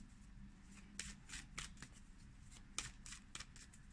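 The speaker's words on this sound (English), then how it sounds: "as I'm shuffling" A deck of oracle cards being shuffled by hand, soft riffling and sliding card noises in quick irregular bursts, faint and close with no talking.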